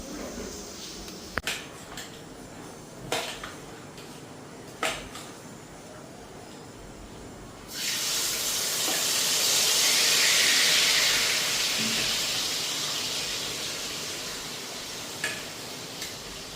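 Spiced jackfruit hits a hot wok at about eight seconds, setting off a loud, broad sizzle that swells and then slowly settles. Before it, a few sharp utensil clicks and clanks sound over a quiet kitchen background.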